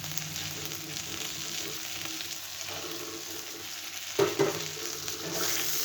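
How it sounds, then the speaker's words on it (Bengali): Potatoes being added to okra curry frying in a pan, a soft continuous sizzle with a brief clatter and burst of louder crackling as the pieces go in. "এবারে আমি আলুগুলো দিয়ে দেবো।"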